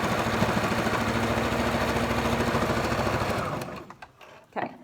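A sewing machine stitches down pleats on a fabric mask in one loud, rapid, continuous run lasting several seconds, then stops abruptly, leaving a couple of faint clicks and handling sounds.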